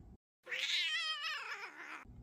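A pet cat perched on a dresser gives a single long, drawn-out meow, clear and close, after a brief quiet gap.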